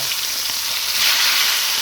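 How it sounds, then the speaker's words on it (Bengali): Loud, continuous sizzling of chicken frying in hot oil, a dense crackling hiss with no voices. "এই যে তেলটা গরম হয়ে গেছে, চিকেন ফ্রাইটি ভাজা দিতে"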